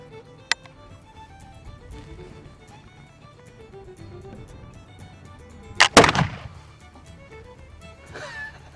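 A 1766 Charleville smooth-bore musket fires once with a sharp, loud blast that rings out and decays over a couple of seconds, preceded by a small click and faint background murmur.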